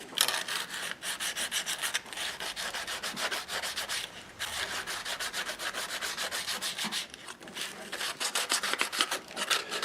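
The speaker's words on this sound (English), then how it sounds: "I'm gonna sand a little bit more of that bevel" Sandpaper rubs back and forth over a clear plastic bevel on a damaged Seagull S6 acoustic guitar, a close, steady run of rapid scratchy strokes that pauses briefly a few times and carries no talk.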